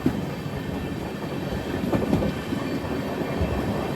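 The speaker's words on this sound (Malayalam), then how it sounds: "ട്രെയിൻ ഇപ്പോൾ നെയ്യാറ്റിൻകര സ്റ്റേഷൻ സ്കിപ്പ് ചെയ്യുകയാണ്." Amrit Bharat Express train running through Neyyattinkara station, heard from on board: a steady rumbling roll with faint wheel clicks, moderate and continuous.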